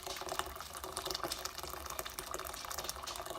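Tap water runs steadily into a 5 litre pot, a constant close rush and splash that holds at an even level throughout with no talking.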